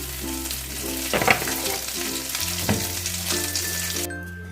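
Mustard oil heating in a wok, sizzling steadily with a few louder bursts and stirring clatters, no voices.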